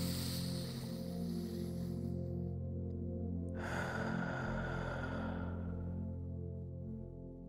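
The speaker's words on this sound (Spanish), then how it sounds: "Toma una respiración profunda." A deep breath drawn in and slowly released during a guided meditation, a single long inhale-exhale heard close over a steady low hum.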